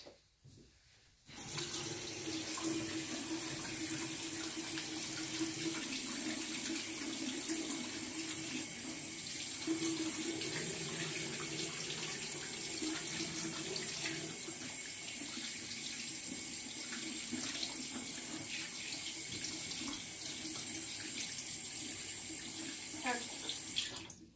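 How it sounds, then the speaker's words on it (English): Tap water runs steadily into a sink during a quick hand wash, starting abruptly after a brief quiet moment, then a continuous close splashing stream with small fluctuations as hands move under it. "Okay, so it says to quickly wash the hands."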